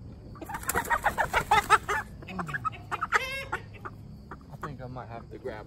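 A 3-month-old rooster clucks in a quick run of short, close calls, then a few scattered squawks and softer clucks.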